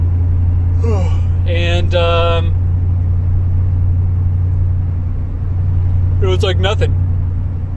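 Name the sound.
2002 Chevy S10 V8 Vortec 356 cruising on highway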